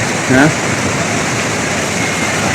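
River water rushes past a damaged house at the Wayanad landslide site in Kerala, making a loud, constant roar. A voice is heard for a brief moment near the start.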